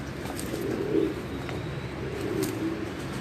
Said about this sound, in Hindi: टाड़ी कबूतर है जी।